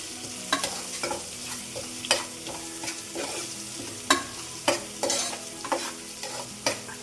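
Onions frying with salt in a pan for mushroom biryani, a steady soft sizzle broken by repeated sharp scrapes and taps of a spatula stirring, close and without any talking.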